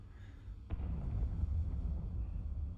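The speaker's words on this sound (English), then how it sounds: "What was that explosion?" A distant explosion in the video game Batman: The Enemy Within, a sharp onset followed by a low, sustained rumble that stays fairly quiet and muffled.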